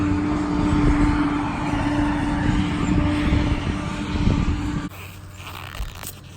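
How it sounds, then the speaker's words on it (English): A tractor drives past outdoors, its low engine drone and rumble steady and fairly close before cutting off abruptly near the end, leaving quieter background. "There's a tractor driving by."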